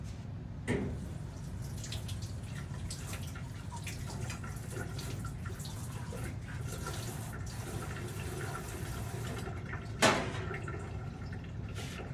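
Running tap water pours steadily over raw chicken being rinsed for a simple broth, a continuous close hiss with a couple of sharp clatters near the start and near the end. No one speaks.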